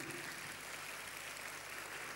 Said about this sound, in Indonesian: Kau tidak tepuk tangan, saudara?